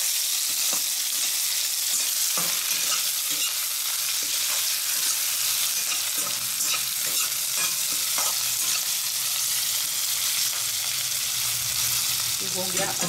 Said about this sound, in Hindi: इसमें थोड़ा जो मैंने प्याज कट किया था वो भी डाल देते हैं।